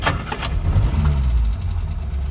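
A Morris Minor engine cranks and catches, a short burst of starter clatter settling into a rough, lumpy low rumble, close and loud with no speech.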